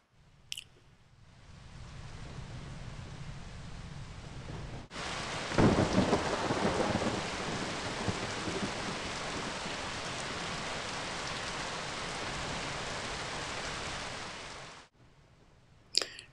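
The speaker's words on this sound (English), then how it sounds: "There is a storm raging in the skies of Penglai. Rain and wind and lightning." A thunderstorm with steady heavy rain sweeps over a mountain temple in a virtual world, with rumbling thunder swelling near the start and the downpour holding loud and continuous before cutting off abruptly.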